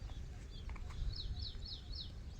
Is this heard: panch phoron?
no